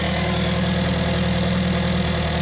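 An Alfa Romeo 4C engine idling after a battery replacement, a steady, close, even mid-pitched hum with no talk over it.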